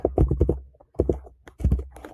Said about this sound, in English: And we'll type in SyncX Order Export.